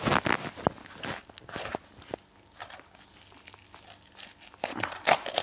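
Plastic packaging crinkles and tears during an unboxing of an online-order product, a handful of close, irregular rustling bursts with quieter handling between them, no talking.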